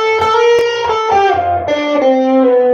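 Electric guitar through a kit-built distortion pedal, played as single sustained notes and short phrases, loud and alone with no talking.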